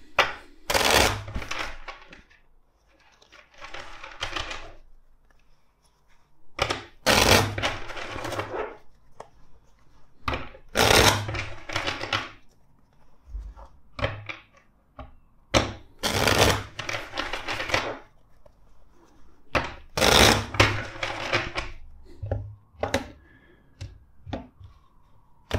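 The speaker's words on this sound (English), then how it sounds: "Let's shuffle first the deck four times." A tarot card deck is shuffled by hand in several separate bursts of crisp riffling and flapping, close up, with quiet pauses between them.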